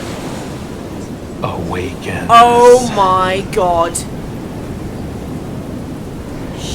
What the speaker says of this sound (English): When the storm surges from the deep sea.